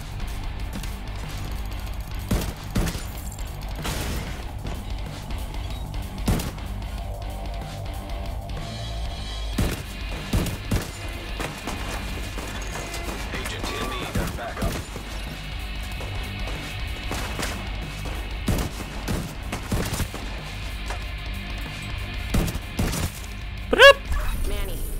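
Semi-automatic weapon fire in the shooter game The Division 2, Odessa mission: irregular, spaced single shots with sharp impacts over a steady game soundscape, fired at a measured pace.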